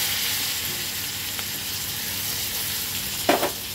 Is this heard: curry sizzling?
yes